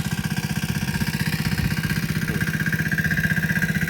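A small engine runs steadily close by while a cauliflower field is watered, a rapid, even low chugging pulse with a constant mechanical drone and no talk.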